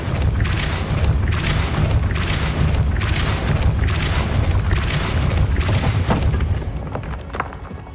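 Confringo blast spells in the Hogwarts Legacy video game, heard as a fast series of about seven loud, booming explosions at a steady rhythm, each with a sharp crack over a deep rumble, fading slightly at the end.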